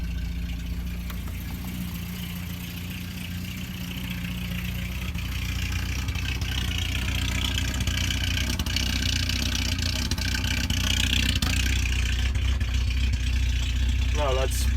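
Volvo 240 wagon engine after a fuel tank and pump replacement, running with a steady loud rumble throughout, close by, with a slight rise in revs toward the end.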